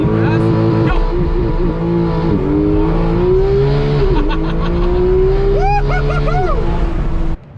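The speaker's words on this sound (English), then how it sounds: "so now it is GT3 launch control with windows down." A Porsche 991.2 GT3 launches under launch control with the windows down, its engine revving loud and close in a rising, climbing howl through the gears, with voices exclaiming over it.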